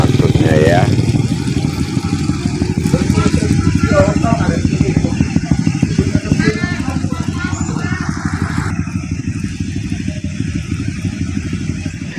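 Motorcycles rumble and rev past on a mud-covered mountain road at Piket Nol, loud and near, with engine noise rising and fading as they pass and someone talking over it.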